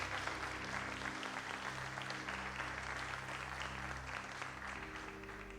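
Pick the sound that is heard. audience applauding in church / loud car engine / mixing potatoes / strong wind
audience applauding in church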